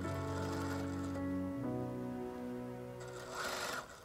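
A sewing machine stitches a seam in Oshima tsumugi kimono silk being remade into a jacket, giving a steady, close mechanical whir with a shifting hum that briefly changes pitch partway through.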